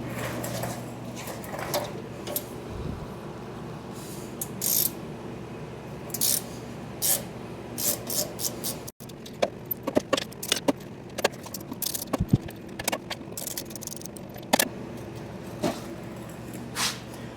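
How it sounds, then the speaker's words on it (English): Wheel bolts being loosened and removed with a 1/2-inch wrench on a car jacked just off the ground, heard as a run of sharp metallic clicks and clinks, sparse at first and then quicker and more clustered, with no talking. "I'm going to take these 4 bolts out."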